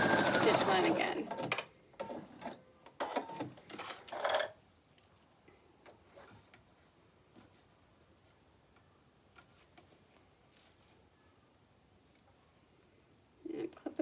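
A sewing machine stitches straight back over a fabric face mask's seam, a brief burst of rapid mechanical clicking followed by scattered small ticks and near silence, with a short buzz at the end.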